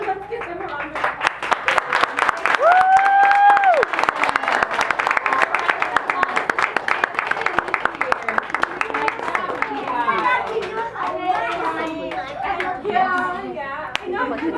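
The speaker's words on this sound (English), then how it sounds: "let's give them a round of applause" Clapping from an audience at a kindergarten honor assembly, a steady dense patter of hands filling the room for several seconds, with children's voices and chatter mixed in and carrying on as the clapping thins out.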